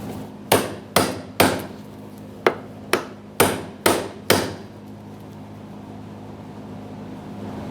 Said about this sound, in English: Hammer and brass punch, we definitely don't want any sparks here.